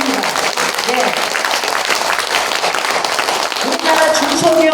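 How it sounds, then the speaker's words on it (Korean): Loud, sustained applause from an audience at a Korean women's policy forum and world conference in the National Assembly conference hall, dense clapping throughout with voices and some singing-like tones rising over it near the end. "여러분 박수 치려면 제대로 치세요."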